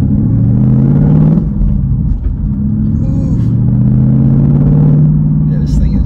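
Supercharged Ford Mustang RS3 Phase 2 with a six-speed manual, engine and exhaust in track mode rumbling loudly from inside the cabin, a deep steady drone with a brief dip and swell as revs shift, while someone talks over it.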